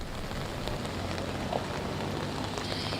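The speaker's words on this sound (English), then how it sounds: "the rain isn't coming down as much as it was about an hour ago, 2 hours ago, but nonetheless, it is still coming down" Rain keeps falling onto a flooded street on North Tryon Street in East Charlotte, a steady, dense hiss of drops that stays even throughout with no voices over it.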